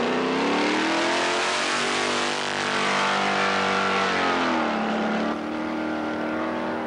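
A 1985 rally car engine revving hard and accelerating on a forest rallysprint stage, loud and close, with sustained harmonic engine tones that rise, dip briefly and climb again.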